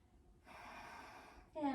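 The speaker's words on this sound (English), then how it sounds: "Breathing, taking 3 nice deep breaths here." One deep, audible breath, an inhale then an exhale, taken during a chair pose core yoga flow, close and soft with a louder breathy push at the end.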